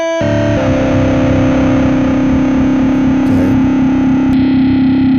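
Heavily overdriven guitar amp tone through a 4x12 cabinet, thick and saturated, droning steadily and loudly with a buzzing, fuzzy edge throughout.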